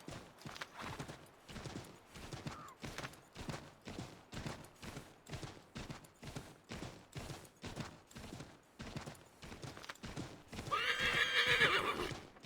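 A horse in Assassin's Creed 3 gallops with a fast, even clip-clop of hooves throughout, then whinnies loudly near the end; game audio with no speech.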